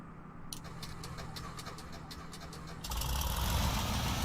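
Cessna 170B piston engine in Microsoft Flight Simulator 2020 starting up: a steady low idle-like hum with a rapid series of sharp clicks, then a louder, denser roar as the engine catches near the end.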